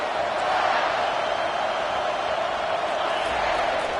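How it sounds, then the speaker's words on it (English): Broad, steady roar of a football stadium crowd cheering, loud and continuous throughout with no distinct individual voices standing out. "This crowd bringing the energy and noise early."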